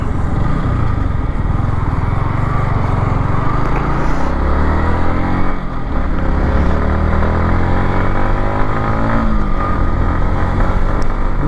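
A Yamaha MT-15 motorcycle engine runs steadily while riding, a loud, continuous droning hum that rises and falls slightly in pitch, with constant wind and road rush throughout.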